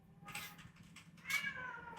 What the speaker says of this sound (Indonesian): Ini kucing bawel. Nih lihat.